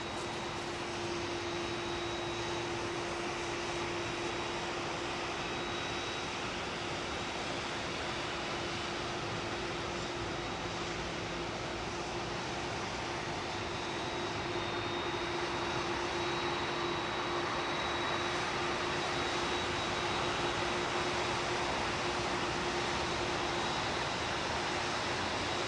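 A jet aircraft departs runway 27R at London Heathrow Airport, producing a continuous broadband roar with a steady tonal drone. The sound stays loud and even for the whole stretch, with no speech.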